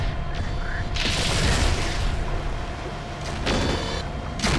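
A destroyed patrol explodes in the MechWarrior 4 Vengeance video game, a loud, dense rumbling blast with sustained roar and crackle, a second surge near the end, and game voice radio chatter partly mixed in.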